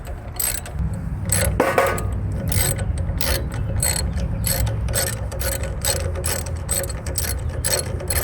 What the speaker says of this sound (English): Use a Torx T25 to remove the screw at the top of the air filter housing.